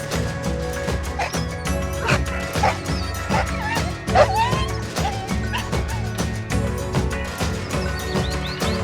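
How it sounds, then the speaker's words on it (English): Dog barks pop out over upbeat music that plays throughout, a few yaps and bow-wows scattered across the mix at moderate loudness. "6 dogs."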